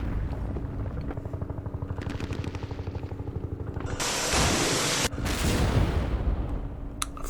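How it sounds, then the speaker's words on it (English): Helicopter gunships open fire in a Vietnam War strategy game set during Lam Son 719: a steady, loud chopping rumble with rapid bursts of gunfire, then a harsh, sustained blast of fire midway that continues to the end. "Frickin' gunships, I love them."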